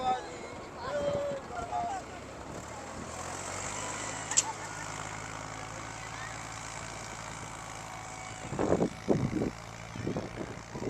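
A tractor engine drones and rumbles steadily as people talk nearby, with a few louder bursts toward the end.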